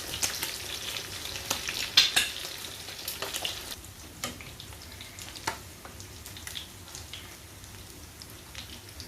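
Dried anchovies sizzling and crackling in a frying pan as they are flipped, with a few sharper clatters of the utensil near the start, then a steady quieter fry.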